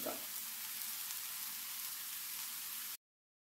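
Ingredients for kaayppolla sizzle in a frying pan, a steady close crackling hiss that runs evenly for about three seconds before cutting off abruptly.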